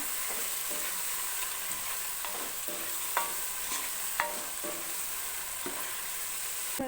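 Tomatoes with salt in a spiced oil tempering sizzle steadily in a pan for chicken biryani, a constant close frying hiss broken by several soft stirring scrapes and taps, no voices.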